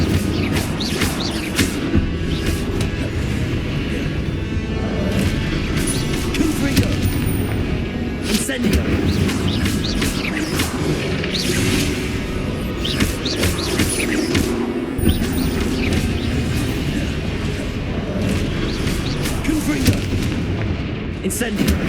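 Incendio and Confringo fire spells are cast repeatedly in Hogwarts Legacy combat, bursting in loud, continuous booms and crackling blasts that fill the whole stretch, with shouted voices mixed in among the explosions.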